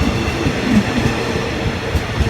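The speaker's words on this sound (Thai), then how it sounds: "เป็นรถไฟที่ทันสมัยที่สุดในเวลานี้นะครับ" Express train 31 from Bangkok to Hat Yai runs along the line near Ban Pong and Ratchaburi in Thailand. A loud, close, continuous rumble of wheels on rails carries through with faint rhythmic clacking.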